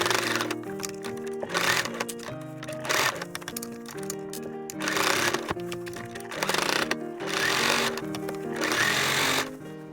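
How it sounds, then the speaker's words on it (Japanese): A sewing machine attaches the sleeves to the bodice of a handmade child's suit for a school entrance ceremony, sewn from inexpensive fabric. Bursts of fast mechanical stitching come and go over steady background music. "袖を身ごろに縫い付ける。"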